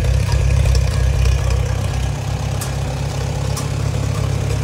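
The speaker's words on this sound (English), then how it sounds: "We'll just let her sit here and idle for a little bit." A car engine idles nearby with a steady, low, rumbling chug that holds an even pace throughout.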